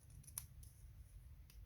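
Scissors snipping paper for a small treat box, a few faint, brief crisp cuts spaced apart over a low background hum, no talking.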